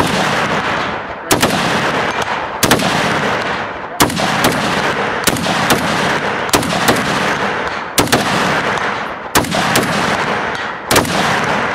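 Gunshots fired in a shooting match, a rapid series of loud, close cracks about every second or so, each one followed by a long, rumbling echo.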